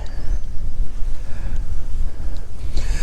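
Strong wind blows over open water during winter fishing, buffeting the microphone with loud, continuous low rumbling and gusting noise.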